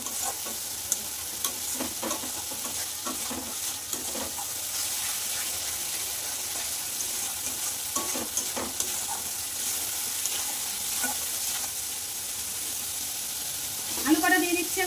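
Spiced fish and potato curry with turmeric sizzles and is stirred in a pan, a steady low frying hiss with scraping stir strokes throughout and a brief louder clatter near the end.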